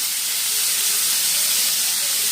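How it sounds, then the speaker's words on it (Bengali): Chopped onion fries in hot oil, a loud, close, continuous sizzling hiss with no pauses and no talking. "আর এখন পেঁয়াজটাকে ভালো মতো আমরা ভেজে নেব ততক্ষণ যতক্ষণ পেঁয়াজের কালারটা সোনালি না হয়ে যায়"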